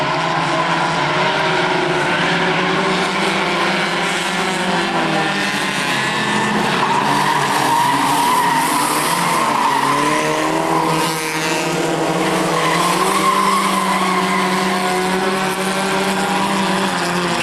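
Race cars roar past on an oval racetrack during a feature race, a loud continuous engine drone with shifting pitches as cars pass through the turns, and no talk heard.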